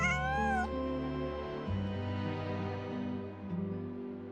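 A cat meows in the video game Genshin Impact, a clear, close, drawn-out mew with rising and falling pitch over a sustained tonal background of game music.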